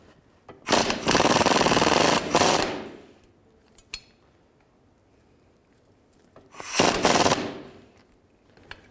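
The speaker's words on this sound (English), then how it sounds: "Use a 15mm socket on the nut." Impact or ratchet-style socket tool on a 15mm nut at a rear sway bar link stud of a 1996-2004 Nissan Pathfinder, two loud rapid rattling bursts of about two seconds and one second separated by quiet, close up, no talk.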